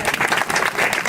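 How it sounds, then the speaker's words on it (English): Brief crowd applause at a Memorial Day gathering at Lac Courte Oreilles, a dense burst of many hands clapping at once. "Just give them a round of applause, please."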